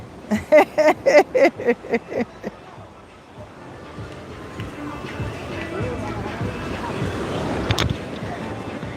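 Ocean waves wash onto Sosua Beach, a broad rushing surf that swells through the later part of the clip after people talk briefly at the start.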